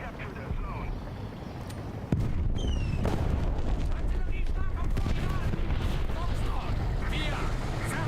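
A heavy tank cannon booms in War Thunder, one loud blast hitting about two seconds in and leaving a dense, rumbling battlefield roar with more distant gunfire.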